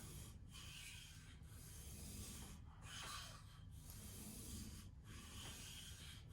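Scissors sharpened by hand on a sharpening stone, a steady gritty rasping in long repeated strokes roughly once a second, close and continuous with no talking.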